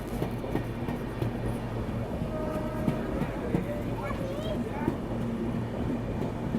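Passenger train on an Indian line between Shikohabad and Mainpuri, heard from aboard a Duronto express 3AC coach: continuous rumbling rail noise with rhythmic wheel clatter and occasional clanks, with people talking over it.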